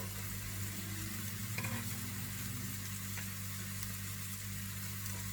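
Carrot and hot chili pepper fry in a sauté pan with a constant close sizzle and crackle, occasionally stirred, with no voices over it.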